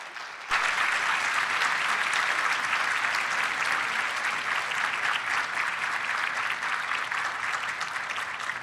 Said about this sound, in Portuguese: Peço uma salva de palmas para o Paulo Mendes da Rocha.